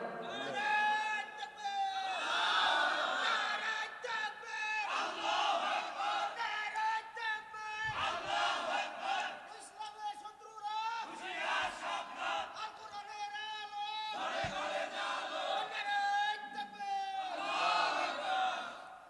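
A crowd at a Bengali Islamic sermon gathering loudly chants takbir together in repeated swelling, voice-like bursts of roughly two seconds each, all at close, full volume.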